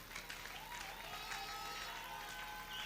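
A church congregation applauding to acclaim Jesus: faint, dense clapping from many hands spread across the room, steady throughout with a distant, soft quality.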